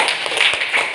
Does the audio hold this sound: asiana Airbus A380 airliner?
no